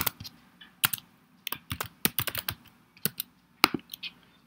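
Typing on a computer keyboard while entering bank account details for an online encashment, sharp clicky keystrokes in short irregular bursts, close and fairly quiet with no talking.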